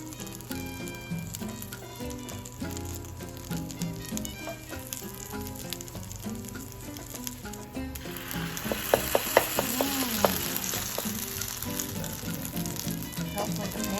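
Steady sizzling of Colombian sweet corn arepas frying in a pan, with clinks and scraping partway through and voices talking in the background.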